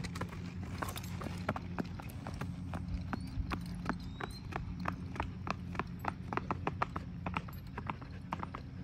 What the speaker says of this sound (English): Can you canter him now for me, Loki?